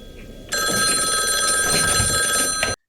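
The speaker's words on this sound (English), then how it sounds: "Well, the phone rings and Jess picks up." A telephone rings loud and continuous in the 1974 horror film Black Christmas, a bright sustained electric bell lasting over two seconds before cutting off abruptly.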